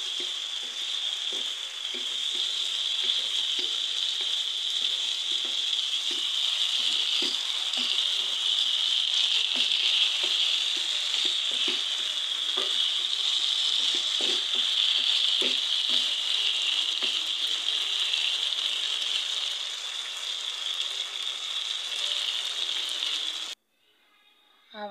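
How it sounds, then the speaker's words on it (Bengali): Vegetables frying in a pan, a loud, continuous close-up sizzle with repeated stirring scrapes and clicks running steadily throughout before cutting off abruptly near the end. "এখন আমি সবজিগুলো দিয়ে দিলাম, দিয়ে ভালো করে নাড়াচাড়া দিয়ে এগুলো কষায় নেব"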